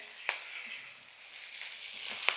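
Paneer stir-fried in masala in a pan, a steady soft sizzle with a couple of sharp scraping stirs, close and continuous with no talking.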